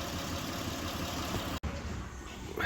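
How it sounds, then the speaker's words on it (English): Mitsubishi Pajero engine idling with a single-cylinder misfire, a steady close rumble running alone with one brief dropout near the end. "it's definitely misfiring"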